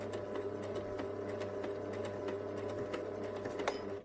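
A domestic sewing machine runs steadily through a seam in reverse stitch on fabric for a stuffed bunny, giving a low, faint continuous hum with light rapid ticking and no talking.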